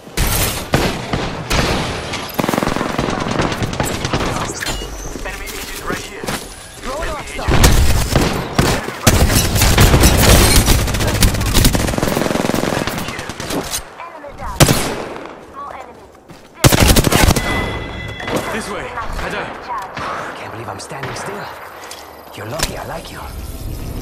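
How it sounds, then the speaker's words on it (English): Continuous bursts of automatic gunfire and scattered shots fill an Apex Legends battle, loud and dense, with game voice lines and other effects mixed in. "They're shooting at me."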